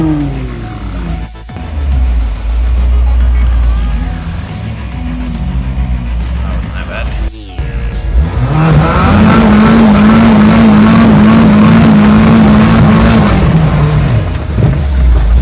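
Suzuki Samurai off-road vehicles revving hard against the rev limiter while wheeling, with loud engine drone, then a sustained buzzing, stuttering high-rpm note that holds for several seconds, close and dominant.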